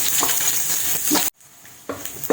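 Garlic sizzles in a little hot oil in a pan, a bright crackling fry stirred with a few scrapes, cutting out abruptly and then returning more quietly with soft stirring.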